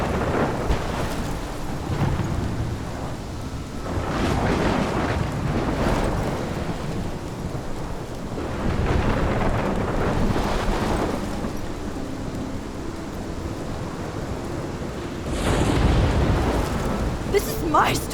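Thunderstorm from the video game Life is Strange: heavy rain hisses steadily while deep thunder rumbles swell in several waves, with game voices speaking over parts of the storm.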